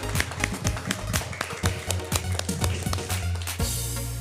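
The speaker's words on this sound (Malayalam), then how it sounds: "ഇവർക്ക് നല്ലൊരു ക്ലാപ്പ് കൊടുത്ത മക്കളെ" Children clap for performers on a stage: a quick run of sharp taps comes through, close and fairly even, over a steady low hum, then cuts off abruptly.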